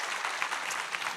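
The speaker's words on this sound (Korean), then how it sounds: "다시 한번 우리 격려의 박수 부탁드리도록 하겠습니다" A church congregation applauds a crossover ensemble during a Sunday worship service, a steady dense clapping from many hands throughout, moderately loud with no talk.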